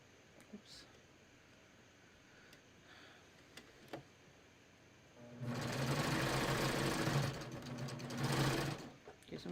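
A sewing machine stitches a cover hem on a tee, quiet handling and a few light clicks at first, then a loud, steady close-up whir of stitching that runs for several seconds with a brief dip partway.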